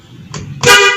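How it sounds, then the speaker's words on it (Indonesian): A car horn is tested during a pre-drive check, giving a short tentative toot followed by a louder, sustained honk close by. "nanti kita akan memeriksa dari klakson"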